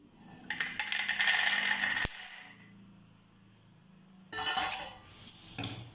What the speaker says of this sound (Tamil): அதே கடாயில் வேர்க்கடலை போட்டுக்கலாம். இதையும் ட்ரை ரோஸ்ட் பண்ணி எடுத்துக்கலாம்.